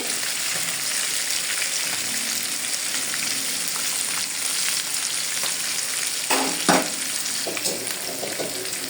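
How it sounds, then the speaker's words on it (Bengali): Onion frying lightly in a pan on a home stove while fish cooks alongside; a steady, loud sizzle runs throughout, with a brief burst of stirring or clatter near the end. "পেঁয়াজটা আমি হালকা করে ভেজে নিব"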